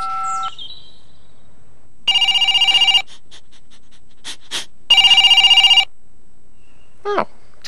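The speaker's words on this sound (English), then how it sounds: "Oh, telephone." A telephone rings in two loud, close bursts of trilling bell, separated by a short pause, with a few faint stray sounds between them.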